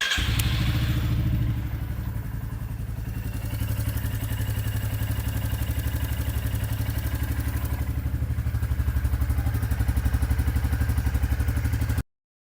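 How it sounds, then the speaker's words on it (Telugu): A Royal Enfield Classic 350 motorcycle engine catches and settles into a steady, loud, close thumping idle, its rapid regular pulse running evenly until it cuts off abruptly at the end. "ఎప్పుడైతే మనం ఇలా టర్న్ చేసి ఇంజిన్ ఆన్ చేసి చూద్దాము."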